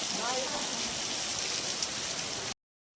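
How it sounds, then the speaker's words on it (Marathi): A heavy monsoon downpour on a rural farm in the Konkan region, a dense, loud, continuous hiss of rain hitting surfaces, steady throughout before cutting off abruptly near the end. "पावसाचा जोर जबरदस्त वाढलाय"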